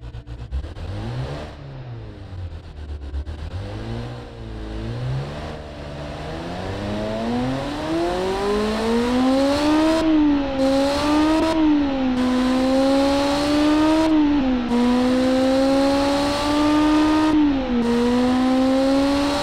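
A naturally aspirated 7.0-litre V8 revs hard, its loud, close engine note climbing and falling in repeated sweeps before holding near a high 9700 RPM scream with brief lifts of the throttle, no voices over it.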